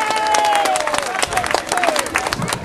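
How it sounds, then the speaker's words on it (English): An outdoor crowd at the Lyme Lympics in Lyme Regis applauds and cheers the Royal Party, Her Majesty and Prince Philip, with loud dense clapping, a few whistles and voices mixed in. "Big round of applause for Her Majesty and Prince Philip again"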